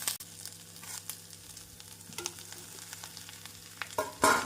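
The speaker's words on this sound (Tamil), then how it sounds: "இஞ்சி பூண்டு விழுது சேர்த்து நாம் நன்றாக வதக்கி இதனுடன் காளானை சேர்த்து விடலாம்" Mushrooms with onion and ginger garlic paste sautéing in a pan, a soft steady sizzle with scattered stirring scrapes and clinks, a sharper louder burst of frying near the end.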